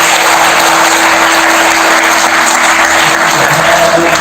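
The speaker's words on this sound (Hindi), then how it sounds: "उसके लिए ताली बजा सकते हैं" Audience clapping at a study camp gathering in Hazaribagh, a dense, steady wash of applause filling the whole stretch at full loudness, with no talk over it.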